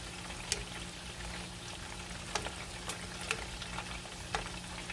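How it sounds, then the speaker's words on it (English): Honey-glazed salmon fillets sizzle steadily in a pan, with a constant frying hiss and a few sharp pops and taps as the delicate fish is flipped, close up and without talk. "And then let's flip each salmon."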